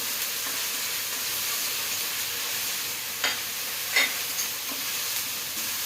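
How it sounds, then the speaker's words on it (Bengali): Ginger garlic paste and onions fry in a pan with a steady sizzle, and a few sharp clinks of stirring stand out near the end. "এদিকে আমার আদা রসুন ভাজাটাও হয়ে যাবে এবং পেঁয়াজটা লং হয়ে যাবে"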